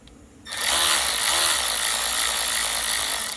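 A powered screwdriver whirs loudly and steadily for about three seconds, close by, while backing out screws from a Daiwa 7850RL fishing reel, starting abruptly after a quiet moment.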